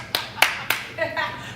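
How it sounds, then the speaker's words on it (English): A few sharp, separate claps from a small audience after a joke at a live comedy show, three distinct hits followed by a brief softer patter, fairly close. "I got a little bit of applause for that."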